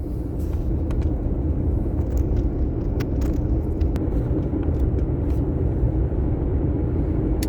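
Steady road rumble of a car driving along a highway toward Big Bend National Park in Texas, a constant low drone of engine and tires with faint ticks and rattles in the cabin, no pauses.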